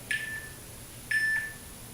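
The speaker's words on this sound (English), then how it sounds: "Again, ignore the beeps." Two short electronic beeps about a second apart, clear and moderately loud over a quiet background.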